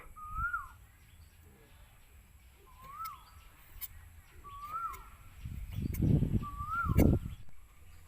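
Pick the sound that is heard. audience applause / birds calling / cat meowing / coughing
birds calling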